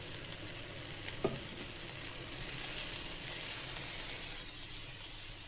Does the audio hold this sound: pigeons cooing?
no